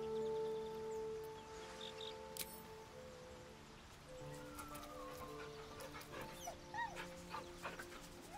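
A dog whimpers and whines in Baldur's Gate 3, with short soft cries over steady game ambience and background music, no one talking.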